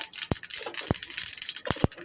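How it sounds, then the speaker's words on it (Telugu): Tempering seeds pop and crackle in hot oil in a pan for a curd chutney, a few sharp snaps over a soft, continuous sizzle, faint and close. "చక్కగా చిటపట్లాడుతున్నాయండి."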